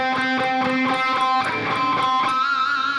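Amplified electric guitar picked at normal strength, the pick barely grazing past the fingers, a quick run of bright notes followed by a ringing sustained chord.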